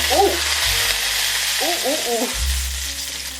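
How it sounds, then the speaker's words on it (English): Shrimp fry in a pan, giving a steady close sizzle with a few low thumps and scrapes of movement, and no talk. "So I'm actually just gonna fry up the shrimp right now."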